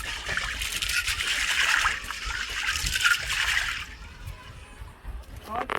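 Water splashes and trickles steadily over peas being washed outdoors for Jamaican-style cooking. The rinsing runs strongly for about four seconds, then fades to a quieter background.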